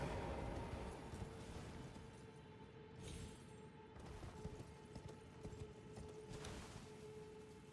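Horse hooves thudding in a quick, uneven galloping rhythm in Elden Ring, fairly faint, over a low steady hum with a few sharper clatters.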